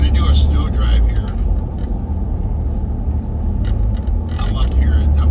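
A car drives a snowy Highway 38 past Angeles Oaks, giving a loud steady low road rumble with someone talking over it.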